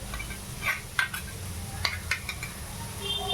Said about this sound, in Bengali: অল্প করে কষবো বেশি কষবো না অল্প দই দিলাম